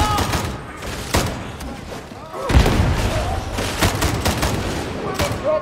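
Bursts of gunfire crackle in Warhammer 40000: Darktide, with rapid volleys and one heavy, booming impact partway through. Shots echo continuously over a dense combat din, with faint voices mixed in.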